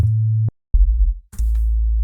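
A plain sine wave sub bass from the Operator synth, lowered a couple of octaves, plays as several sustained deep tones with a brief gap, loud and alone.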